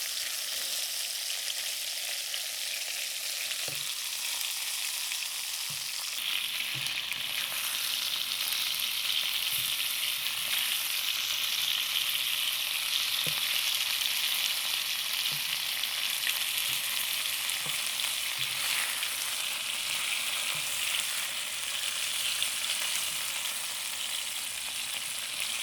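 Chunks of meat browning in a frying pan give a steady, even sizzle that runs continuously throughout, with a few soft clicks of stirring, and no voices.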